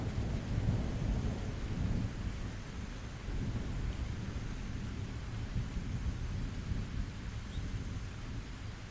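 Steady heavy rain pours throughout, with low rolling thunder rumbling under the downpour at a fairly even level and no voices.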